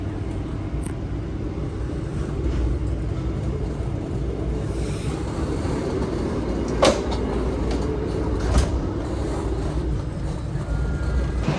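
A Gajayana executive-class passenger train rolls along with a steady low rumble and rail noise, and a couple of sharp clanks stand out. The sound comes from inside the carriage.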